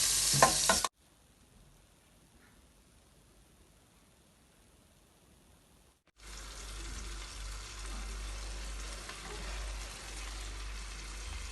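Leeks sizzle in butter in a saucepan with a faint, even hiss that starts after a few quiet seconds and then holds steady and close.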